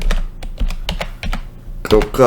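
A web address typed on a computer keyboard, quick separate key clicks close by in an uneven rhythm, with someone speaking over the last moments.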